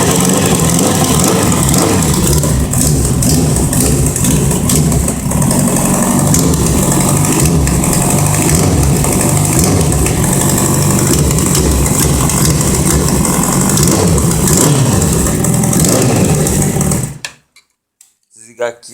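A Kawasaki Z750 motorcycle engine runs loud and close with a ticking, rattling mechanical knock and light revving, cold engine, continuous until it cuts off abruptly, leaving near silence.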